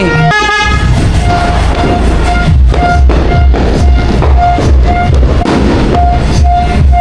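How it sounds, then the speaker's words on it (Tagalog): A car horn honks loudly at New Year celebrations in a long repeated series of short beeps over a rumbling engine, very close and insistent. "yung busina ko na lang"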